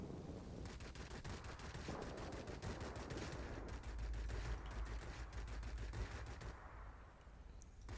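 Aircraft guns fire in long, rapid bursts at a fighter in World of Warplanes aboard a P-61, a dense, loud rattle over a constant engine roar that eases off near the end.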